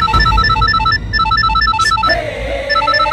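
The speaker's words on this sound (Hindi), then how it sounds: "ऐश्वर्या का फोन" A mobile phone rings loudly and alone, a repeating electronic ringtone of quick stepped tones with a brief sweep near the middle, in an indoor drama scene.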